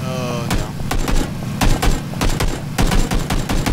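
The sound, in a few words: gunfire in video game PUBG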